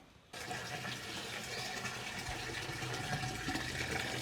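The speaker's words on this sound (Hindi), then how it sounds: "पानी भर रहा है।" Water runs steadily from a tap into a container, a continuous gushing fill that starts abruptly and carries on at a near, even level, in a Bundeli home setting with no talk over it.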